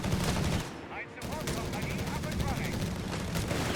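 Dense battle din from Company of Heroes 3, with rapid machine gun bursts and scattered rifle shots sustained throughout, heavy low rumble underneath and a commentator talking over it.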